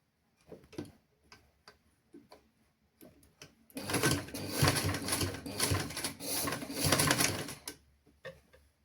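A sewing machine stitches a folded 1 cm seam on children's clothing, with a few scattered ticks before a steady, loud whirring run of several seconds that then trails off into light clicks.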